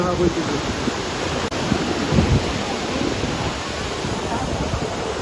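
Waterfall in Italy roaring in a steady, loud, broadband wash of falling water, heard close with no talk.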